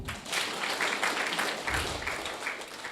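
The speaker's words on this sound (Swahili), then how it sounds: "Si tuwapigie makofi" Delegates at a church self-help group's annual meeting applaud together, a thick, continuous wash of clapping from a crowd that holds steady for a few seconds.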